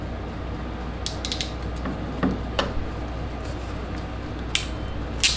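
Double-lever ratchet crimping pliers squeeze a terminal onto an electrical cable in a small garage, producing a few sharp, light mechanical clicks and snaps over a steady background hum.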